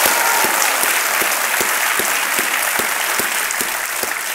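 A studio audience on the Kaun Banega Crorepati quiz show applauds to welcome a contestant to the hot seat: dense, loud, steady clapping that fills the whole stretch without letup.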